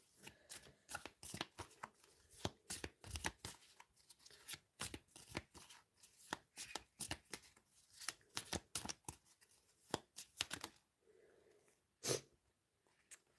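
Tarot cards shuffled by hand, a dense flurry of quiet rapid riffling and slapping strokes that stops briefly near the end before one last snap, heard close and faint.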